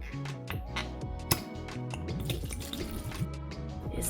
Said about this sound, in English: Now for the booze, I'm going to add in 400 millilitres of port.